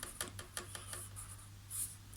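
Pen or pencil writing out the working of a Class 8 mensuration problem on paper, a run of quick, close scratchy strokes and taps over about two seconds, with no talking.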